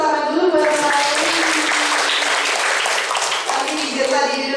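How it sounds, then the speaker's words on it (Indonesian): Students in a school grooming class clap together for a classmate, a steady, loud burst of applause lasting several seconds, with a voice speaking over its start and end. "tepuk tangan dulu buat Nuraini."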